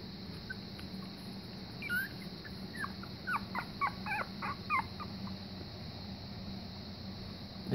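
Week-old German Pinscher puppies give a run of thin, high whimpers and squeaks in short bursts over a steady background hum, close and fairly soft.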